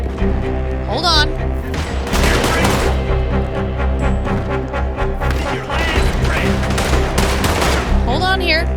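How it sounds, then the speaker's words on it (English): Gunfire in Red Dead Redemption II, a loud, close barrage of rapid overlapping shots and sharp cracks over a steady backdrop of game music, with occasional shouting voices. "Okay, I'm definitely getting shot now."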